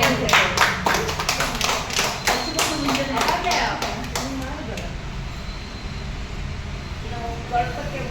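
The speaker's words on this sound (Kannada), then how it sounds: "ಜೋರಾಗಿ ಚಪ್ಪಾಳೆ ಹೊಡೆದ್ಬಿಡ್ರಿ" A crowd claps at a farmers' company celebration where a cake is being cut, bursting into quick, sharp claps for the first few seconds, then thinning out and fading as people talk underneath.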